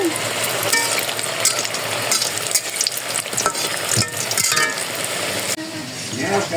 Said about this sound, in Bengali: ওই তেলে জিরা ছেড়ে দিলাম